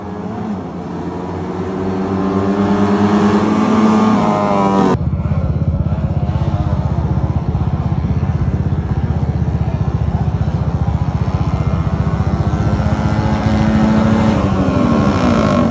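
Motorcycle engine rumbling steadily up close, building in loudness over the first few seconds, then holding a loud, rough idle-to-rev drone with a sharp change in tone partway through.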